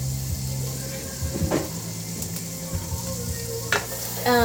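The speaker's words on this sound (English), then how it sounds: "we're going to sear it. We're just searing it in here." Fresh asparagus sears in a hot pan with a steady, close sizzle of frying, broken by a few brief scraping stirs and clatters, with no talking over it.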